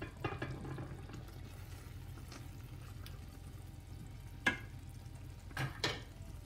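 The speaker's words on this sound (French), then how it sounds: "Je vais maintenant casser les œufs, donc les 3 œufs que j'ai." Eggs cracked one after another onto a merguez chakchouka simmering in a pan, with a few sharp taps and light splats over a soft, steady sizzle, no speech.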